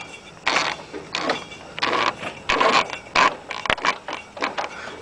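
A lawn mower motor turned over slowly by hand, its worn pulley bearings giving off a series of close, uneven grinding and ratcheting bursts separated by short pauses.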